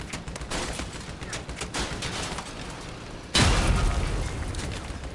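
A vehicle-mounted cannon in Crossout fires amid steady gunfire, with one heavy, booming blast standing out near the end over the ongoing battle noise.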